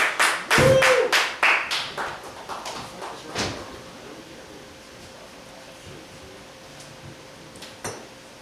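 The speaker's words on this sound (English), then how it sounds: "George O'Brien, everybody give him a round of applause." A small audience gives a few loud, sharp claps that quickly thin into scattered, fading applause, leaving a quiet room with a late isolated clap.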